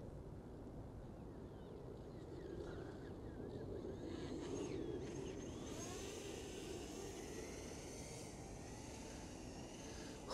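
A radio-controlled VTOL model plane hovers outdoors, giving off a steady motor and propeller whine that rises and shifts in pitch as the craft manoeuvres, with wind rushing across the microphone.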